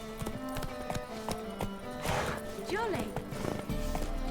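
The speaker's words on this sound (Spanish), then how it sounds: "mira que el caballo puede caer, se le puede crear un nivel de pánico al caballo" A horse's hooves clip-clopping at a rapid gallop in The Witcher 3: Wild Hunt, rhythmic thuds with a brief whinny midway, heard under in-game music and someone talking.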